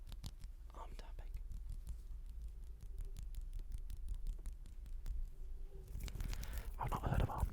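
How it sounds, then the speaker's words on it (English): Fingertips tap quickly and steadily on bare skin of an arm for ASMR, producing a close, soft, dense patter with faint scratchy textures, followed by a brief louder rustle at the end. "arm tapping"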